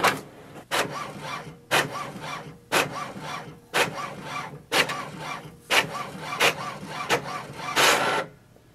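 An HP OfficeJet Pro 9025 inkjet printer running a print job, with a repeating cycle of sharp mechanical clicks and whirring carriage or feed passes about once per second, fairly close and steady, with no talking.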